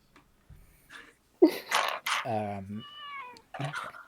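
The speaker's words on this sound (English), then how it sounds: "That was such a distinct meow." A cat meows loudly and distinctly nearby, a single drawn-out harmonic call in the middle, with quieter vocal sounds and brief chirps around it in an otherwise quiet room.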